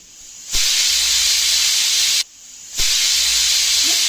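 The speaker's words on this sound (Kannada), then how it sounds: "ಮುಚ್ಚಳನ ಮುಚ್ಚಿಟ್ಬಿಟ್ಟು ಎರಡು ವೀಸಲನ್ನು ಕೂಗಿಸ್ಕೊಳ್ಳಿ" Steam hisses loudly in a sustained burst from a pressure cooker whistle, cuts off briefly, then surges again in a second long hiss.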